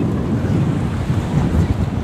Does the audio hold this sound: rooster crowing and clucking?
no